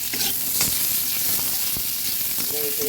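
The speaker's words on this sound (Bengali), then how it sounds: "মাছ ভাজার তেলটার মধ্যেই আলুগুলো দিয়ে দিলাম" Potatoes fry in leftover fish-frying oil with a dense, loud sizzle throughout and a few soft stirring knocks.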